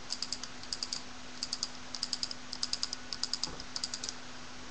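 Rapid clicking from the trigger of a Dangerous Power G4 paintball gun: crisp, close, light clicks in quick clusters of two to four, repeating steadily for several seconds over a faint electronic hum, with no one speaking.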